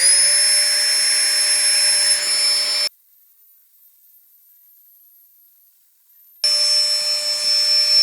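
Electric pump inflating an extra-large 10 cm thick sleeping pad, a loud steady whine with a constant pitch that cuts out for a few seconds and then resumes, no talk.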